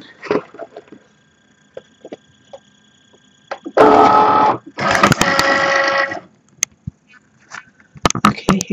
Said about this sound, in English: So the next thing I am going to do is to actually load this into my Cricut.